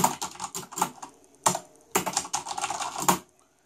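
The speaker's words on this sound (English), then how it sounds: "if you buy a mechanical keyboard, please be prepared for this sound" Corsair Strafe RGB mechanical keyboard typed on up close, bursts of sharp rapid clicky keystrokes with brief pauses between runs, then quiet at the end.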